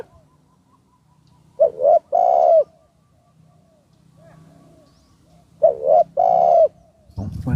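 Spotted doves coo in two close, loud phrases, each a quick cluster of rounded notes, spaced several seconds apart over a quiet outdoor background, apparently a trained decoy bird in a dove-hunting setup.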